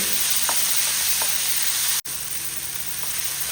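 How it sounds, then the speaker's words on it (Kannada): Onions and tomatoes fry in a pan with a constant close sizzle and hiss, broken only by a brief cut partway through, with no talk. "ಈರುಳ್ಳಿಯನ್ನು ಚೆನ್ನಾಗಿ ಫ್ರೈ ಮಾಡಿ"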